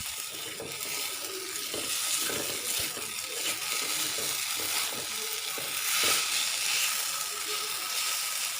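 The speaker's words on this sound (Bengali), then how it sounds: "ভিন্ডিটা হলো ভাজা হয়ে গেছে, এখন হলো আমি নামিয়ে ফেলবো।" Okra fries in a wok, giving a steady close sizzling hiss broken by scraping and stirring clicks of a spatula against the metal, continuing evenly throughout.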